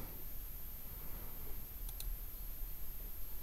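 A mouse clicks twice in rapid succession at a Windows computer, giving two small, faint ticks over a quiet background hiss.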